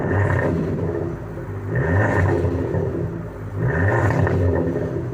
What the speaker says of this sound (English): how about we just give it a few cheeky revs, and we just put it in sport mode